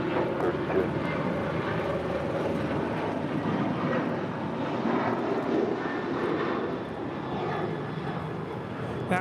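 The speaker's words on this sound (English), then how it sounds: "That was Alaska Airlines 1147 departing to Seattle on a 737-900ER" Alaska Airlines Boeing 737-900ER jet in honoring-those-who-serve livery taking off from LAX runway 25 right, a loud continuous engine roar that fills the whole span, steady and close with no break.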